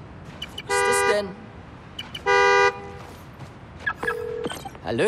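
Car horn from the video game Spider-Man: Miles Morales honks in three clear bursts, the first two long and loud and the last shorter and thinner, against quiet game ambience.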